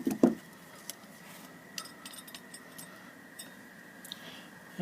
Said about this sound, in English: I'm going to do that by holding it with 2 pairs of channel locks and break it.